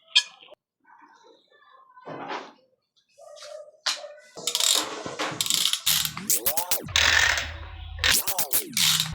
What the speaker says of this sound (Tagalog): Paggamit og torque wrench